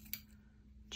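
Scissors trimming paper while a planner spread is laid out, heard as two short crisp snips, one near the start and one at the very end, close and quiet with a low steady hum underneath.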